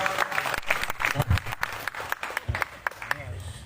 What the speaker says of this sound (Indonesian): Tepuk tangan. Untuk Gus Monyong.